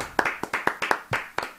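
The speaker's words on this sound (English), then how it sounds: "Golf clap." A quick series of light, polite claps, about seven or eight sharp hand strikes in an uneven rhythm, close and alone over a short burst.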